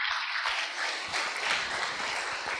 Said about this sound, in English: give a big clap for Kumtekar sir, Amjad sir, and Yuvraj sir.